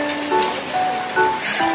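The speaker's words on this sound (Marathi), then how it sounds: "पाऊस काय अजिबात थांबला नाहीये. बघा किती पडतोय." Steady rain falling outside a home during a downpour, a continuous hiss with brief swells, no talk over it.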